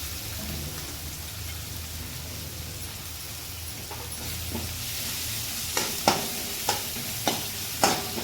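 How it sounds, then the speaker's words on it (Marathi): Onion frying in hot oil over a low flame for khichdi rice hisses in a steady, even sizzle, and several crisp spoon taps and stirs against the pan come near the end. "आता त्याच्यात आपण हे बघा कांदा टाकणार"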